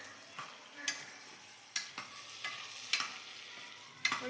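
Vegetables for undhiyu stirred in oil in a pan, with a steady faint sizzle broken by several sharp scraping clicks of the spoon at irregular intervals, no voices.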